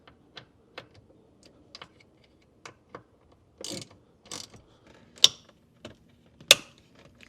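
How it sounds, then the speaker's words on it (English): T30 Torx screws are driven back into a Saab 9-3 cupholder area, with sparse ratcheting clicks and brief metallic rattles spaced irregularly in a quiet space, close and crisp. "now we can come back over here and screw in our T30s"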